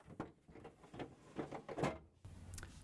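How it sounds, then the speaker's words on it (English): Plastic ice bucket assembly on a GE refrigerator being slid back into place in the freezer, a short run of soft clicks and knocks ending in a firmer snap, close and fairly quiet. "Reinstall the ice bucket assembly."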